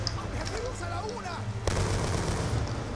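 Dense rapid gunfire crackles continuously in a busy Call of Duty: Black Ops II game soundscape, with a voice speaking in Czech over the shooting.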